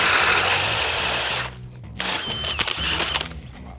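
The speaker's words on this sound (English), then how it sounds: "be ready to drill my first hole" A power drill whirs loudly with a Spyder hole saw biting into material, stops briefly, then runs again in uneven bursts, close up.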